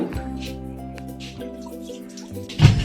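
Water splashes and drips while a motorcycle helmet is washed outdoors, with a low steady hum underneath and a brief louder splash near the end.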